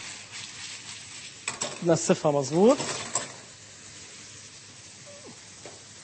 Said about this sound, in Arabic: أنا وعم قلي البصلة